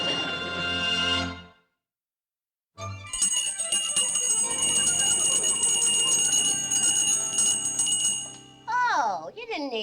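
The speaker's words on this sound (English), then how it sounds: "There she goes with that blasted bell again." A hand bell is rung to summon someone, giving a loud, sustained metallic jangle of rapid strokes close by after a brief voice and a pause, with a voice speaking again at the end.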